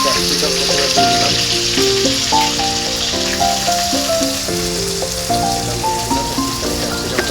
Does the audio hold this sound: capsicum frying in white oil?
yes